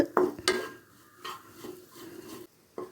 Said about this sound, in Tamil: எல்லாத்தையும் நல்லா வதக்கிக்கலாங்க, ஈரம் வற்றி போகிற அளவுக்கு